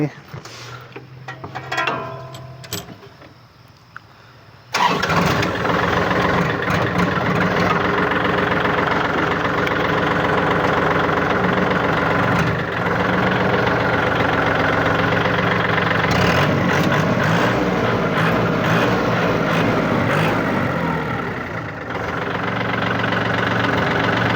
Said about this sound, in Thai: เดี๋ยวผมจะ สตาร์ทให้ดู ฟังเสียงเครื่องหน่อยเป็นไง